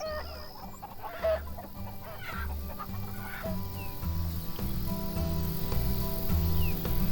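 Chickens cluck repeatedly in the video game Farm Manager, a steady rhythmic clucking loop over a soft background music bed, with no voices.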